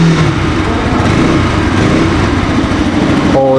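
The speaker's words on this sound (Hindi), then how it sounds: "सबसे पहले हम इस बाइक को ऑन करके इसका एक जोर साउंड सुन लेते हैं" A Bajaj Pulsar RS 200, a 200 cc motorcycle, runs steadily at idle with a loud, even engine drone throughout, close to the microphone and with no talking.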